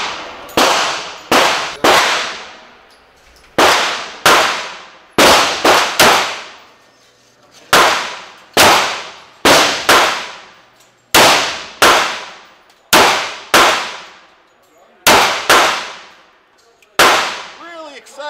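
Loud, sharp gunshots from a Rock Island Armory 10mm TAC II pistol with a 4.25-inch barrel, about a dozen reports fired singly and in quick pairs, each with a ringing decay.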